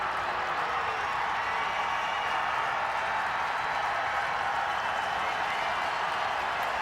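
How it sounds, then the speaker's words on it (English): Stadium crowd at a 2011 college football game between Jacksonville State and Kentucky, a steady loud roar of cheering and noise sustained throughout, with no distinct voices standing out. "The crowd finally becoming a factor in this game."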